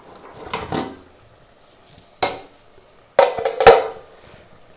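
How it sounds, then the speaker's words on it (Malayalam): A spoon stirring food in a cooking pot, giving a few separate scraping and clinking bursts with short gaps between them, close and moderately loud, with no talking. "നല്ലപോലെ ഒന്ന് ഇളക്കി കൊടുത്തിട്ട്"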